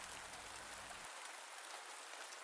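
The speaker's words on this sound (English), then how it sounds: "through it comes the sound and the smell of the rain outside" Rain falls steadily outside a manor window on a grey afternoon, a soft, even hiss of drops, faint and continuous, with a low rumble fading out after the first second.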